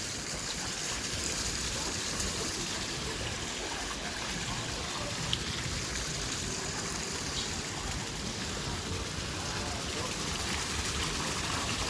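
High-pressure fountain water gushing at the Pasig River Esplanade, a steady, continuous rush of spray heard close and fairly loud for the whole stretch, with faint voices in the background.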